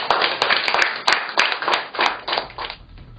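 Clapping from a small group at a NIMASA maritime sector event, heard as a close burst of sharp, uneven hand claps that thins out toward the end.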